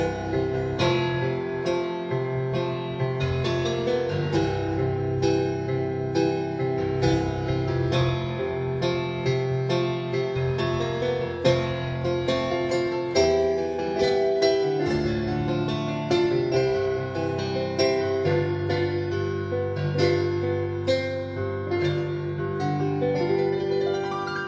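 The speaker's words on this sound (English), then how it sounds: "here is with full reverb on the acoustic grand piano" A Williams Legato 88 portable digital piano plays in its acoustic grand voice with full reverb: a continuous run of notes and chords with a lush, washed-out sustain, loud and close, and no talking.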